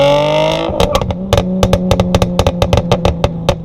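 A manual Mercedes C300 with a pop and crackle exhaust tune: a steady idle is followed by a rapid series of about a dozen sharp, loud exhaust pops and crackles, close by, with no talk.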